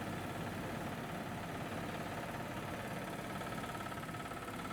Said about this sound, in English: This is the first vehicle that arrived minutes ago.